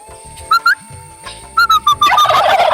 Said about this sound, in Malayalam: ഇത് ടർക്കികളാണ്. സംസാരിച്ചാൽ തിരിച്ചു വേണമെങ്കിൽ സംസാരിക്കും.